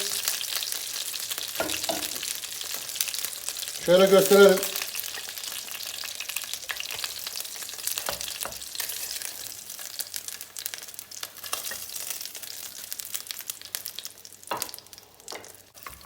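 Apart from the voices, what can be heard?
chicken frying in a pot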